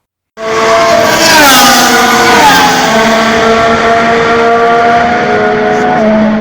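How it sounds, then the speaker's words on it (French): Formula 1 race car engines roar loud and close at the start of the 2019 Spanish Grand Prix, a dense high-pitched whine that rises and shifts pitch as the cars accelerate away together. "démarrez vos moteurs, c'est un départ!"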